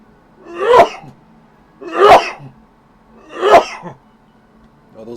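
Three forceful human sneezes, evenly spaced and loud against a quiet background, with a faint start of a fourth at the very end and no speech.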